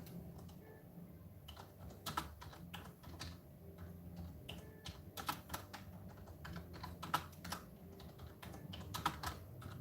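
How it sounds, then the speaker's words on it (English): Steady typing on a computer keyboard, with quick clustered keystrokes and brief pauses, close and fairly quiet, with no voice over it. "I'm just typing away."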